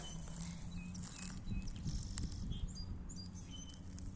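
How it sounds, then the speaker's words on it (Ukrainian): Birds chirp and tweet in a village garden in spring among tulips, scattered short calls at a distance over a faint low background hum. "Пташки вже співають, он бджілки вже тут працюють"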